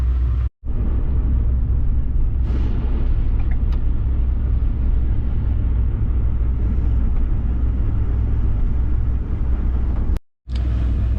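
Cargo van driving on a cold Minnesota winter night, a steady close low engine and road rumble filling the cabin, with two brief dropouts in the sound.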